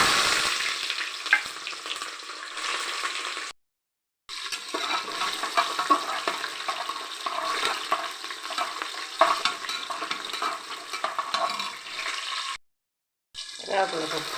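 Crushed onion, garlic and chili frying in oil for a goat head curry, giving a steady, loud sizzle and crackle that breaks off twice for a moment.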